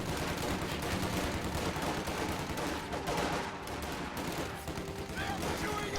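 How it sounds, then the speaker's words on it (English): Machine gun fire and battle noise from the Company of Heroes strategy game, dense continuous gunfire filling the whole stretch at steady volume with no clear gaps between bursts. "there he goes, machine gun."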